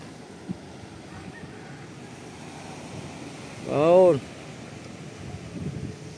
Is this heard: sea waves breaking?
yes